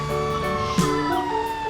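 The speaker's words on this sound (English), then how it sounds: "fire truck" Fire truck siren in a steady wailing tone with layered harmonics, loud and close, holding without pause.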